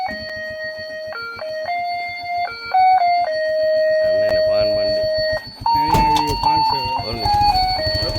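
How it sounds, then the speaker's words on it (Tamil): A bread van on Nainativu island arrives, its electronic jingle playing a simple looping melody of steady beeping tones, with a nearby voice speaking over the tune and louder bursts of music toward the end. "நயனாதீவில் பான் வண்டி வருது பாருங்க நயனாதீவு பான் வண்டி"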